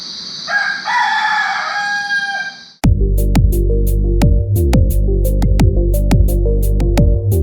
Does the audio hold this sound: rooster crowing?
yes